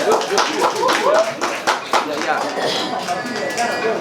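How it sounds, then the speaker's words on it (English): A live audience at a writing session claps together in a burst of quick, uneven hand claps, close and lively, with voices talking and calling out over the clapping. "so big round of applause"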